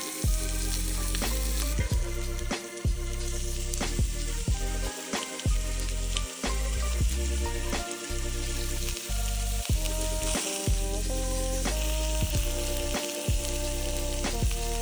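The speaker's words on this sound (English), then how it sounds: "Then toss in those shrimp and then cook them for about 3 to 4 minutes on each side" Shrimp sizzles loudly and steadily in oil in a cast iron pan, with occasional stirring clatter over a faint tonal background.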